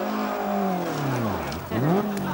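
A late 1980s rear-wheel-drive Toyota Starlet rally car, its engine loud and close, pitch sliding down then dipping and surging back up as it revs hard on a stage.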